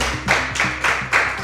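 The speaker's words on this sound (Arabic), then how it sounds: "تصفيق قوي جدا" Applause from a studio audience at an Arabic quiz show, loud bursts of clapping that rise and fade in several short waves, close and without talk.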